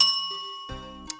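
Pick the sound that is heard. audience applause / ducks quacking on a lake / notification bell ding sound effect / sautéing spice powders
notification bell ding sound effect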